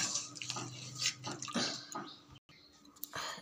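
Water poured into a Bengali bahar fish curry with potatoes and spices, heard as soft splashing and trickling in uneven spurts, fairly quiet and close, with a brief silent gap near the end.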